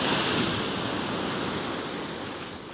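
Storm waves surging in at the Cleethorpes seafront, a loud, steady roar of surf and wind washing close by, with no talk.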